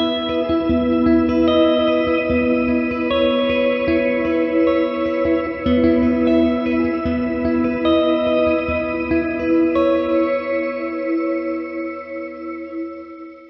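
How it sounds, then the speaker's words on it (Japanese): Strymon BigSky MX reverb pedal in shimmer mode, a shimmering wash of sustained high-pitched chords with a glassy pitch-shifted halo that swells steadily and fades toward the end, played alone without talk. "幻想的というとやっぱ欠かせないシマーリバーブ。 ビッグスカイ MX のシマーかなり綺麗です。"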